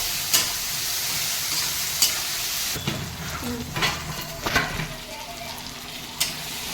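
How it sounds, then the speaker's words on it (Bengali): Mushrooms frying with spices in a pan, a soft steady sizzle broken by several sharp clinks and scrapes of stirring, fairly quiet and close. "এই আমার মাশরুমটা মশলা ফসলা দিয়ে ভালো করে কষিয়ে ভাজা হয়ে গেছে"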